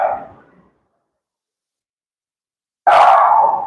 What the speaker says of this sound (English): Oops, my dog is barking.